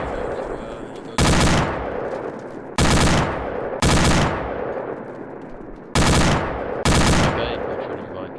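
Vehicle-mounted machine gun in Arma 2 fires five dense sustained bursts with abrupt starts and stops, each one loud and close, followed by booming decay and echo between the bursts.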